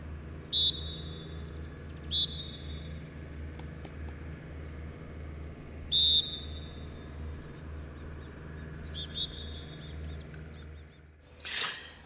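A trainer gives short, sharp whistle blasts to make a retriever sit, several distinct toots spread out over a low, steady outdoor rumble, followed by a brief rustle at the end.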